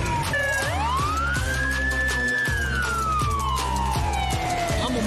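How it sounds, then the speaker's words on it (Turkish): A police siren wails loudly and close, its tone sweeping up and then slowly falling, over a rhythmic low pulsing engine-like throb. "Where's my sirens at? You hear my sirens?"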